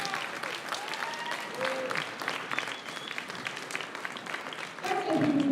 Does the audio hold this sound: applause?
yes